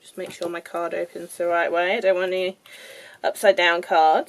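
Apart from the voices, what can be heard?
No everyday noise stands out behind the speech.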